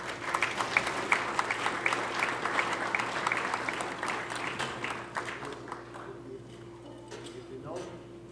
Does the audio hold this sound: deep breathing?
no